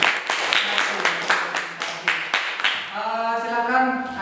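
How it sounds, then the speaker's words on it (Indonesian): Classroom clapping for a student group presentation, a few hands slapping in an uneven rhythm for about three seconds before a voice begins talking. "Tepuk tangan untuk kelompok."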